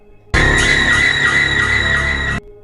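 A loud, shrill horror-style scream effect in a haunted cabin story. It bursts in suddenly, holds as one long piercing cry for about two seconds, then cuts off sharply, with no talking over it.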